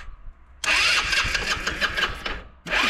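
An Adly 100 cc scooter engine is cranked up close, a loud, rough starter burst of about two seconds that cuts off briefly before a second start attempt begins. No one speaks.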